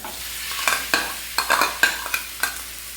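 Potatoes are stirred into a spice tempering frying in a pan, with a quiet sizzle under about eight sharp spatula scrapes and clinks in an irregular rhythm.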